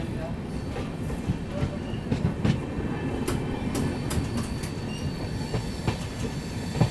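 Shiv Ganga Superfast Express rolling into Gyanpur Road station at night on the Banaras–New Delhi route: a continuous near rumble of wheels on rails with rhythmic clatter and occasional metallic squeals, steady throughout.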